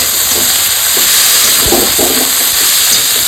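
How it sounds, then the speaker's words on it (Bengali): Banana flower fries in hot oil with a loud, steady, close sizzle, broken by faint clicks and stirring sounds. "মোচাটা ভালো করে তেলে ভাজবো।"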